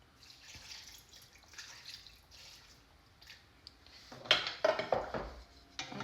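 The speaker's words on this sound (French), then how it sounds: "On rajoute un peu d'eau." Water is added to a cooking pot of ndolé, with faint trickling followed by a cluster of sharper metallic clinks and knocks from the pot and utensils near the end, quiet and close with no talking.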